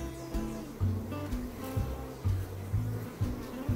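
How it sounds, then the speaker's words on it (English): Honey bees buzz steadily in and out of a hive entrance, a close, continuous droning hum with small pulses as individual bees pass near. "you see the way in which the bees are buzzing in and out"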